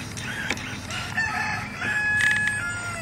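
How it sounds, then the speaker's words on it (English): A pet chicken clucks close by in short bursts, with a few higher squawking notes among the calls and no talking. "Here's your live chicken oracle."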